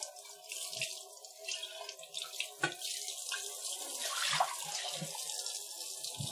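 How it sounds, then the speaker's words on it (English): Tap water runs into a jug as coffee grounds are rinsed out, a close splashing stream with scattered drips and knocks of the jug against the sink. "I take the same jug, I rinse out all the coffee grounds from it."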